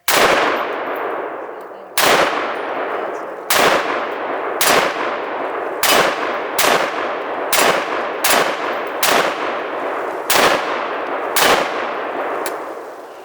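Rifle shots hit a steel target hung on a chain: about eleven loud, sharp cracks, each with a ringing metallic clang, come at irregular intervals of about one to one and a half seconds, with nobody talking.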